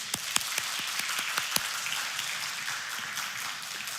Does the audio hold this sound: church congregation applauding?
yes